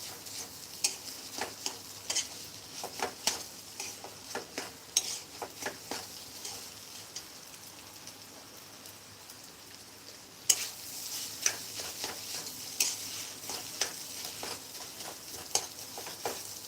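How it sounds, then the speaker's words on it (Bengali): Fish roe mixture for macher dimer jhuri frying in oil over a low flame, a gentle continuous sizzle broken by frequent rhythmic spatula taps and scrapes against the pan, growing brighter partway through. "আমি হালকা ফ্লেমে করছি যাতে তেলটা একটু ছাড়ে"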